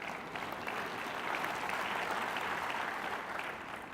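Audience applause during a talk, a continuous wash of clapping from a large crowd heard from some distance, swelling slightly in the middle before easing off.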